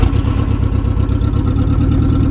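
A Datsun B210 car engine idles steadily right after starting, close and loud, with a regular low pulsing rhythm and no voices.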